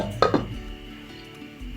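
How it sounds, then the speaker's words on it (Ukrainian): A couple of quick metallic clinks near the start as a lid settles onto a pot of chicken feet stock, followed by quiet kitchen background. "і накриваю кришкою."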